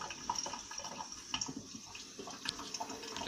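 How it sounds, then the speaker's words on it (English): Water running through a cleaned sausage casing intestine, a soft trickling and dripping flow with small splashes, close and fairly quiet, lasting a few seconds. "So we're just trying to get the water to go all the way through."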